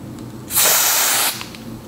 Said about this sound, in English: I'm just gonna spray my hairline and apply the wig.